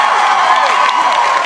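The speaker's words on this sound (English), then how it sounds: "everyone give Hannah a big cheer" A college audience at a hypnotist show claps and cheers in a short, dense burst of applause and shouting, loud and close, filling the room for a moment.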